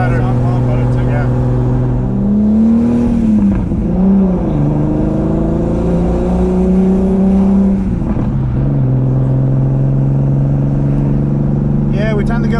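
A turbocharged VR6-swapped B5 Audi A4 runs loud and close with its hood off, engine droning and rising in pitch as it revs and drives, with a steady low rumble throughout.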